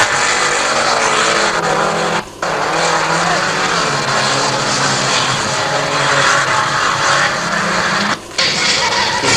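A fast Audi rally car races by at a 1985 event with a loud, continuous engine roar and broadband road and tire noise, broken by two brief dips.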